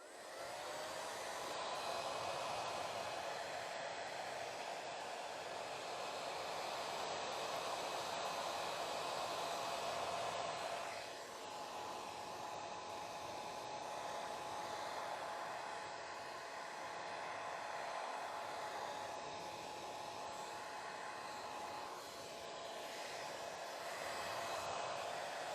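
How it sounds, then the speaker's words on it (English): A hair dryer blows steadily on the back of a sheet of paper, a continuous broadband whoosh with slight shifts in pitch and intensity as it moves, fairly close and without talk. "I'm just need to use my dryer once again, so that I can like dry it a little faster"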